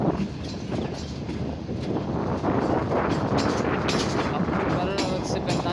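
The Karakoram Express arrives at Khanewal Junction railway station, a loud continuous rumble of rolling carriages with windy, rushing noise building slightly toward the end, close by and without speech.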